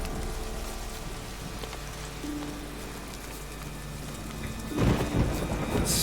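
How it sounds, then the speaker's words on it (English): Thunderstorm in The Witcher 3, with steady rain hissing throughout and a deep rumble of thunder swelling near the end, fairly close and loud. "Storm, damn it."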